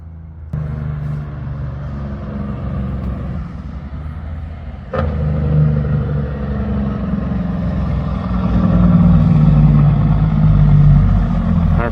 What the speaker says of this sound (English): I believe that truck's coming into my wood yard.